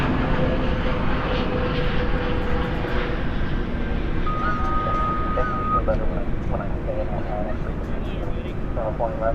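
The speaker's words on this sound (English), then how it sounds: "Spoilers up, reversers out on this Airbus A321neo" An Airbus A321neo lands at Dallas/Fort Worth airport at night with spoilers up and thrust reversers deployed, producing a loud, sustained engine roar and rumble while a person talks over it.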